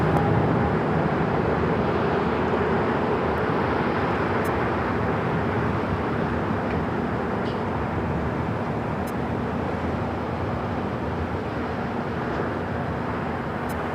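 A blue KLM Boeing 777-300ER rolling down the runway at a major airport, heard as a loud, steady broadband jet roar that stays constant and fills the whole stretch without pause.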